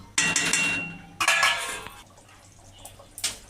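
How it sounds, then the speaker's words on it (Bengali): A metal lid comes off a cooking pot of brinjal paneer masala curry, giving two bright clattering bursts of metal on metal, then quieter clinks close by with no talk. "এবার আমি ঢাকনাটা খুলে দিলাম"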